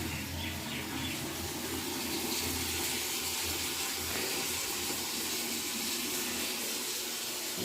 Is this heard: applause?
no